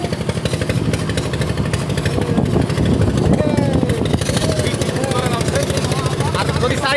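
Trawler boat engine chugging steadily as it moves through a wetland canal in Narail during heavy rain, loud and close with a rapid rhythmic throb, a voice talking over it.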